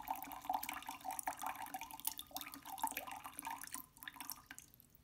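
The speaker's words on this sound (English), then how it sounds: "Now 104 grams of filtered tap water." Filtered tap water poured for homemade castile soap, a light trickling and dripping stream with small splashes that runs steadily for several seconds before tapering off, fairly quiet and close.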